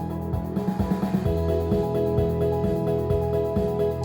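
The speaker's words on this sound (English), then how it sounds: "With the white noise it sounds like this." A song section with added white noise plays, steady harmonic chords under a soft hiss, with a regular beat of low thumps throughout.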